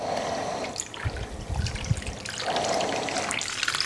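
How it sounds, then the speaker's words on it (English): Water is poured over pieces of bone marrow in a container to submerge them, a steady trickling and splashing stream that runs close and unbroken with no talk. "we're going to top the water up until they are completely submerged"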